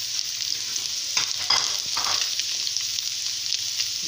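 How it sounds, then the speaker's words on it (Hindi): Carrots and capsicum fry in a pan with a steady sizzle and occasional stirring scrapes, the loudest around the middle, with no one talking. "पहले मैं गाजर डाल दी हूँ, मैं शिमला मिर्च डाल दी हूँ"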